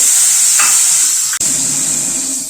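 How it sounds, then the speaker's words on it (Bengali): Boiled potato halves frying in hot oil in a pan with cracked fenugreek seeds for a fish curry, a loud steady sizzle throughout with a brief clink near the middle. "আলুটাকে একটু ভেজে নিচ্ছি।"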